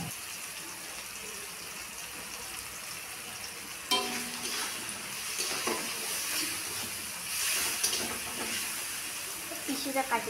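Onion, tomato and chowmein masala stirred in a hot pan for egg chowmein, a steady close sizzle with a sharper burst of frying and scraping partway through.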